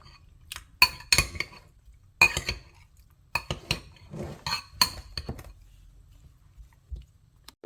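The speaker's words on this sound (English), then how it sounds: "And then I'm going to give this a good stir." A spoon clinks against a dish while a seasoned mixture of salt and black pepper is stirred, giving irregular bursts of close metallic taps and scraping with short pauses, no talking.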